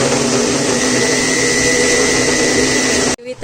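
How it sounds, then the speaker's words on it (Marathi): A kitchen mixer grinder grinds tomato and onion gravy with a loud, steady motor whine close by, running continuously before cutting off abruptly near the end. "लावा मिक्सर"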